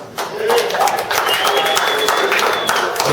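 Comedy club audience clapping in a steady, dense burst, loud and close throughout with crowd murmur mixed in.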